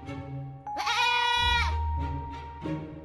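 A goat bleats loudly and close, one long wavering cry followed by a few shorter bleats, with no talking.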